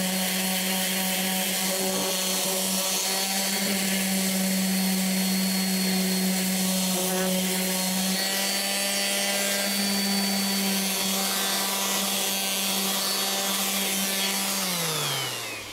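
A rustic wooden lamp being sanded with a power sander, a loud continuous motor whine with a rough abrasive hiss against the wood that holds steady for the whole stretch and winds down at the end.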